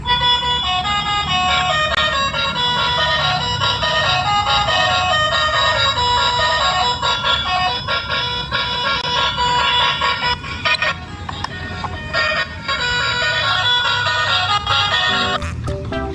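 An orange battery-powered toy swaying truck (truk oleng) switched on, blasting loud electronic music and horn-like honking tones continuously, with a few short clicks near the end.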